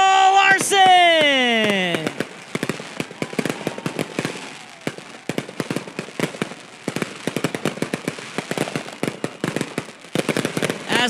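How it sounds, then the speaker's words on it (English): Fireworks bursting over Eagle Raceway after a sprint car race, beginning with a rising whistle and then a long run of sharp, rapid cracks and pops, steady and loud for most of the stretch, with crowd noise faintly underneath. "As the fireworks just pelter Eagle Raceway"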